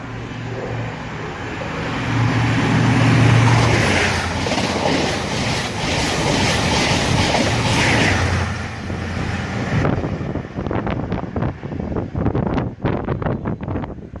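A train passes at speed on the Great Western Main Line at Slough, a loud rushing roar with wind buffeting on the microphone that swells and then breaks into a rapid clatter of wheels over rail joints as the cars go by.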